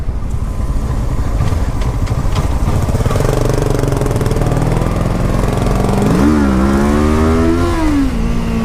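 Entry-level sport bike engine running steadily while riding, a loud continuous drone that climbs in pitch as the rider revs and shifts, close to the microphone with no talking.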